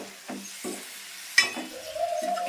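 Fish pieces are stirred gently in a Nellore-style curry, giving a few soft separate scrapes and taps against the pan over a faint simmer, with a light clink partway through.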